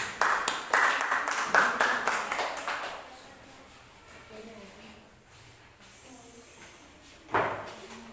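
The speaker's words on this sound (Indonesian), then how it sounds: "Beri aplaus untuk kelompok 1." A classroom group gives a short round of clapping for Group 1, many hands at once, fairly close and lively for about three seconds before fading into quiet room tone and a later knock.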